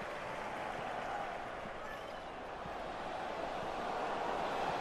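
Football stadium crowd in the FIFA video game, a steady faint broadband roar of many voices with no clear peaks or clapping, sustained throughout.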